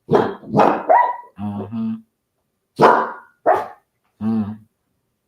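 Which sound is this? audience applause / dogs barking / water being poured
dogs barking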